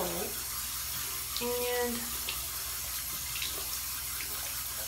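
Warm tap water runs in a constant, close rush while a face is rinsed by hand, with someone briefly speaking over the flow.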